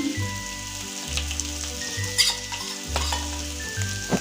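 Mashed potato with garam masala frying in a pan, a continuous close sizzle with irregular scraping stirs, over a faint low steady hum.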